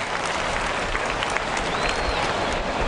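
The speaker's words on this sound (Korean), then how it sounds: "관중들은 그에게 뜨거운 박수를 보냈다" A stadium crowd in the United States applauds golfer KJ Choi as he throws a ceremonial first pitch, giving dense, warm, continuous clapping that carries steadily throughout, without talk.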